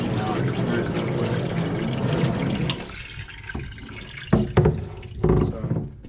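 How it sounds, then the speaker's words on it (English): A low-pressure garden-hose-like water spray rinsing emulsion out of a silkscreen printing screen, a steady hiss of water giving way to splashing and dripping bursts, close by, with a voice speaking over it. "it's just almost just like a little garden hose that it's just really washing out very simply"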